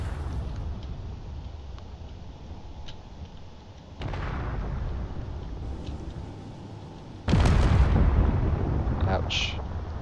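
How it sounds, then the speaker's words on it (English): Railgun shots and explosions in the space game Drone Wars: sustained rumbling combat noise with sudden loud blasts partway through and near the end, each followed by a long roaring decay. "Those railgun shots are very lethal."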